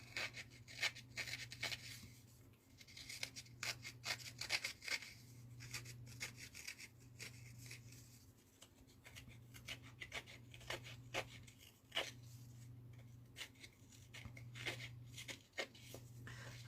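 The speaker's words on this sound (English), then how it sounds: "I just use my scissors just to rough up the edges of the papers." Scissors roughing up the edges of paper for a Stamperia Winter Tales minibook, heard as quiet, irregular scratchy rasps and rubs spread through the whole stretch over a steady low hum.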